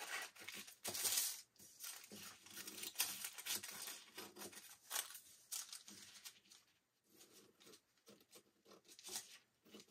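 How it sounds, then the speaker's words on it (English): Paper being trimmed off the edge of a gel press sublimation print, with soft crinkling, tearing and snipping sounds in irregular bursts, close and fairly quiet. "so I'm just going to trim that off"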